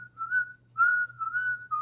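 A person whistles alone in a few sustained, steady tones with short gaps between them, faint and thin over a low background hum.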